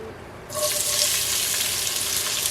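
Diced red onion hits hot oil and breaks into a loud, steady sizzle that starts abruptly and holds as a bright continuous hiss for a butternut squash curry.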